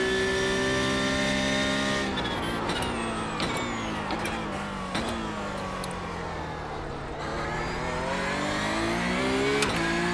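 Several race cars running close together in iRacing's Porsche Cup at the Gillies-Villeneuve circuit, engines revving and shifting loudly in a continuous stream, with pitch climbing and dropping through gear changes and brief tire squeal.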